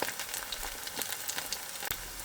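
Batter fritters of mushroom, chopped onion, green chili and flour fry in a pan, giving a soft, continuous close sizzle with faint crackles throughout and no talking.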